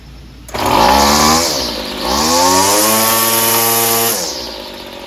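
A free Weedeater FL26 gas weed trimmer, fuel line and filter just replaced and carburetor adjusted, starts up and runs loud and close, its small two-stroke engine revving up, dipping, then climbing back to a steady buzzing whine before dropping off.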